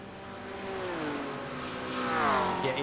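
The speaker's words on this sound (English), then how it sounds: "Hearing that turbo discharge of the BMW ahead." Turbocharged BMW race car accelerating at Monza, its engine note rising steadily in pitch over about three seconds and swelling louder near the end with a whooshing turbo rush, no voices.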